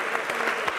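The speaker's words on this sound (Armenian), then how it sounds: "Ծափարեն Կարենին։" An audience at a live Armenian comedy show claps briefly, a dense burst of many hands heard close and steady for under a second with no talk.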